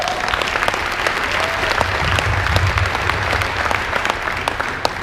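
A banquet audience claps in sustained, dense applause for several seconds, many hands close and loud with no pause.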